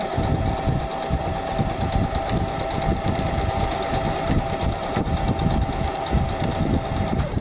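Sewing machine stitching a pleated fabric mask, a loud, continuous close mechanical whirr with rapid rhythmic clatter of the needle throughout, no pauses.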